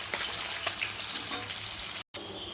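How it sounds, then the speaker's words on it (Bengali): Small fish frying in hot oil in a wok, a steady broadband sizzle with light crackling pops throughout, close and continuous, broken by a brief silent gap near the end. "এখন আমি ছোট মাছটা ভেজে নিব।"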